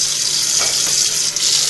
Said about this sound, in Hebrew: נשים מים